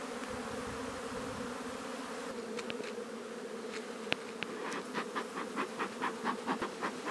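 Honeybees buzz around an open beehive in a dense, steady drone, with a run of faint rhythmic pulses toward the end and a few soft clicks.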